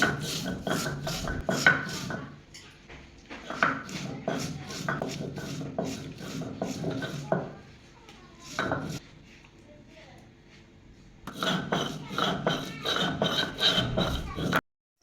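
Cumin being ground by hand on a flat grinding stone: repeated rough scraping and grinding strokes in a steady back-and-forth rhythm, close and fairly loud, with a quieter pause in the middle before the strokes resume.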